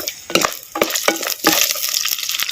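Ten peeled garlic cloves and five green chillies stirred into hot oil for a traditional pond fish gravy, giving a steady close sizzle broken by scraping stir strokes, with no voices.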